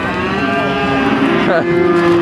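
Cattle low loudly and repeatedly at a crowded livestock market, their moos layered over a steady hum of farm activity while haggling over prices goes on nearby.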